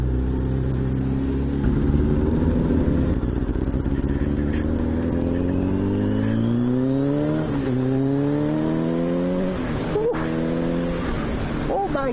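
A 1989 Kawasaki ZXR750 H1 motorcycle engine runs loud and close, its rumbling idle rising and falling through several revs with sweeping pitch climbs, continuous for the whole stretch with faint background noise.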